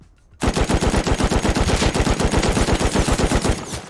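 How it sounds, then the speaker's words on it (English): Video game gunfire erupts after a brief quiet moment: a rapid, even burst of automatic shots fires continuously for over three seconds, loud and close. "We gotta shoot at them."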